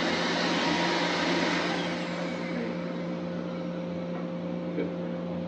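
A steady, loud pet hair dryer roars continuously with a constant motor hum, close by, with no break across the whole stretch, while drying an Afghan Hound.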